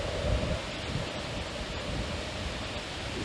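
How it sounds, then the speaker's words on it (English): Muddy brown water pours down a waterfall in a steady, dense roar of broadband noise, continuous and unbroken with no other sounds standing out. "Look at that water just pouring down."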